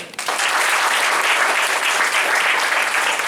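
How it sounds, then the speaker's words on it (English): Steady applause from a Toastmasters audience at a 2017 district event, a full, even clatter of many hands that rises quickly and holds throughout. "A round of applause for them."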